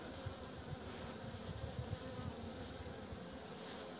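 Honeybees in a highland apiary, the colony's first brood, give a steady, low droning buzz that holds through the whole stretch at a moderate, close level with no voices.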